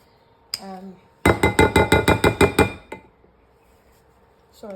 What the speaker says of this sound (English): You might need to give the stick blender a good bang as well, just to get any stuff out that's lurking.